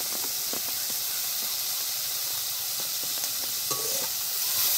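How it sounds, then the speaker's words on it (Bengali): Shrimp with turmeric and salt frying in a pan while cooking by a river, a soft continuous hiss and sizzle with faint stirring scrapes, heard alone at moderate distance. "চিংড়ি মাছটা ভেজে নিয়েছি"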